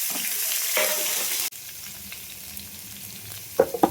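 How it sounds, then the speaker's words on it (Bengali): Potatoes frying in a pan with little oil to turn them reddish, a bright sizzle that cuts off abruptly and gives way to a quieter fry with a few sharp crackles and clinks near the end. "আলুটা ভেজে নেব লাল করে"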